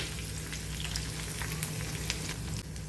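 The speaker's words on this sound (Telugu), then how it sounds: "ఉల్లిపాయలు పచ్చివాసన పోయేంత వరకు ఫ్రై చేసుకుంటే సరిపోతుంది" Onions frying in a pan give a close, steady crackling sizzle with scattered pops like light rain, fairly soft and continuous with no talking.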